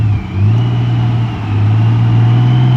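A car engine revs steadily with the clutch slipping, a loud, sustained droning hum that dips briefly and then swells again, heard alone with no talking.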